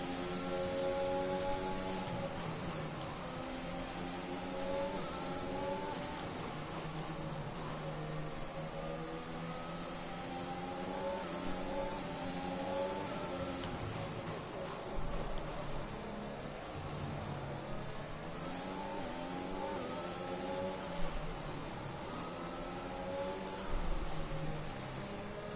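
Formula One car engine in the racing game F1 2021 at the Hungary circuit, a continuous whining drone that rises and falls in pitch as the car accelerates and shifts through corners; no talking.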